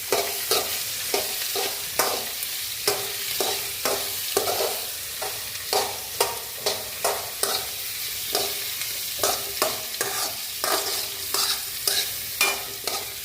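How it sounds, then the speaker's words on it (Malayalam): Tomato, bitter gourd and green chilli frying in a pan, stirred with a spatula in regular scraping strokes over a soft sizzle, close and fairly quiet, with no voices. "എന്നിട്ട് നമുക്ക് നന്നായിട്ട് ഇളക്കി കൊടുക്കാം."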